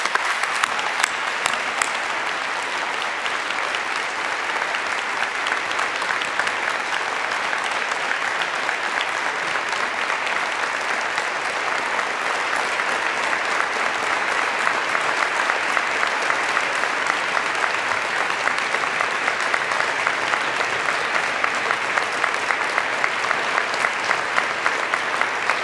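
Sustained audience applause fills a farewell moment at a COP26 high-level Race to Zero event, dense steady clapping running unbroken for about twenty-five seconds at an even, moderately loud level.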